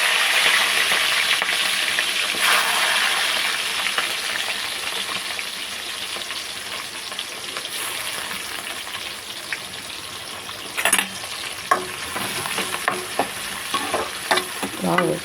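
Chopped onions and green chillies sizzle steadily in a hot pan for a curry, with a constant frying hiss and a few clinks and scrapes of stirring toward the end.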